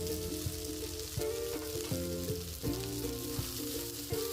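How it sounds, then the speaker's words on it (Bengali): Potatoes tossed into hot spiced oil for a Bengali egg bhuna, frying with a steady loud sizzle while a spoon scrapes and stirs in a few distinct clanks over the crackle. "কিছুটা কষানো হলে এবার আমি আলুগুলো দিয়ে দিচ্ছি।"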